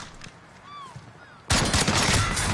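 Gunfire in Call of Duty Warzone breaks out abruptly midway as a loud, sustained burst of rapid shots, following a quieter stretch with a few whistling tones.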